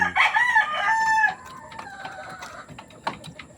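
A bulik rooster crows once with a long, loud, drawn-out call lasting over a second, followed by quieter farmyard background noise.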